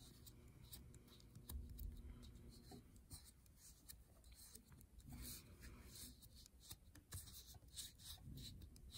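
A finger rubs and smooths pencil shading on paper for a still life drawing of pumpkins, a soft, close scratchy swishing in repeated strokes that is faint throughout.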